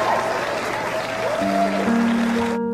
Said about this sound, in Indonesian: Bahkan Charlie dan Valdez mendapatkan aplaus dari para wartawan